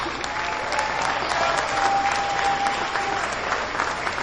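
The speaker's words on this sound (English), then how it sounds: "Give them a warm round of applause." Crowd applause fills a Houston campaign rally for Hillary Clinton 2016, a dense, steady wash of clapping from many hands that holds loud and even throughout, with a faint whistle-like tone riding above it.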